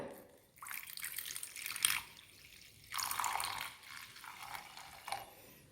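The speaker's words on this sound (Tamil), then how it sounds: "அது கூட நான் 1 கப் அளவுக்கு தண்ணி சேர்த்துக்கிறேன்." Water is poured into a pan of ground natural dishwashing powder made with soapnut, giving a faint, close trickling splash in short bursts with pauses between them.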